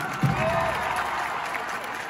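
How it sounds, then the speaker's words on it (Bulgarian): A brief burst of audience applause at a reality show finale, dense clapping with a crowd murmur, steady and fairly close. "Силни аплодисменти за Памеца!"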